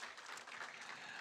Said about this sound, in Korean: 인사 박수해 주시기 바랍니다